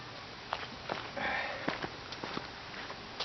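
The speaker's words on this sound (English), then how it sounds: "There's the baby cat." A young cat sniffing and moving about near someone installing RV solar batteries, giving soft, close, intermittent sniffs and light rustling steps over a quiet background.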